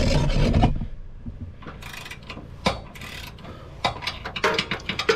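Ratchet wrench tightening 3/4 inch nuts and bolts on a trailer hitch under a 2018 Chevrolet Traverse: close metallic clicking and ratcheting in uneven bursts, with some scraping and rubbing, and no talk.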